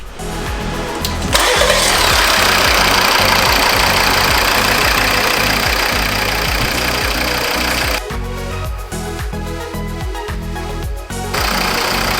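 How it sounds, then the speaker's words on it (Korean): A Volvo V40 engine, started manually for an engine flush, runs at a loud, steady idle with a rhythmic mechanical chatter throughout, and its tone shifts briefly partway through. "수동 시동 걸어가지고 네. 한 15분 정도 세척하도록 하겠습니다"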